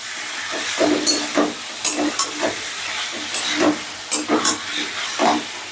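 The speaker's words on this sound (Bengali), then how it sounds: "এবার আলুটাকেও বেশ ভালো করে ভেজে নেব।" Potatoes frying in hot oil in a pan for vegetable pulao, a steady loud hiss and sizzle with repeated bursts as the pieces are stirred and tossed.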